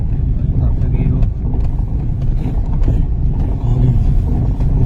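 A car drives steadily along a misty forest road, its engine a constant low rumble and road noise that stays loud and close throughout, with no talk over it.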